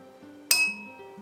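A metal tuning fork struck once during a relaxing tuning-fork facial gives a sharp bright clink that rings on with a fading high tone over a faint low hum, close and fairly loud, with no talking.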